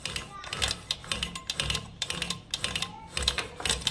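A household sewing machine with a faulty shuttle runs in short bursts, its rapid mechanical clatter stopping and starting as the thread snags, heard up close with someone talking over it.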